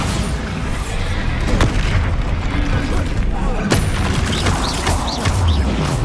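Bombarda blasting spells detonate in Hogwarts Legacy, giving a string of heavy booming explosions with sharp crackling impacts amid busy game noise, and a voice speaks over the action.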